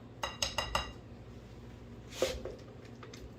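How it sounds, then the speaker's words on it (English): A spatula works against a mixing bowl of vegan pumpkin pie filling, making a quick run of four light clinks. After a pause comes a single louder scrape-and-knock, all close by with no talking. "you're going to take some time and scrape down as much as you possibly can"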